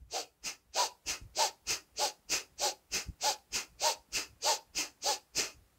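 Rapid, even fire-breathing exercise: about seventeen forceful nasal breaths in a steady quick rhythm, close and loud, each a sharp hissing puff with no talking.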